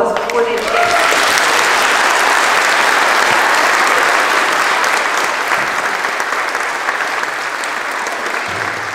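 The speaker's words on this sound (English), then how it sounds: "we encourage them with a big round of applause before they get there" Sustained audience applause fills a school carol service at a primary school and nursery, steady and dense clapping from a large crowd, loud and continuous throughout.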